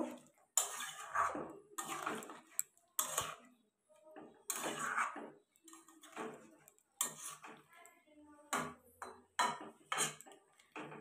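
A spoon or ladle stirs a Bengali jackfruit and prawn curry in a pot just after water goes in, giving irregular clinks and scrapes in short bursts, close and fairly loud, with no talking.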